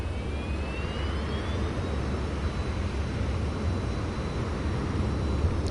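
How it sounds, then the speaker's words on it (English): Jet airliner landing with thrust reversers deployed in the Microsoft Flight Simulator 2024 game, heard as a steady, loud, broadband engine roar with a faint rising whine, running continuously with no talk. "And then we'll use our reversers."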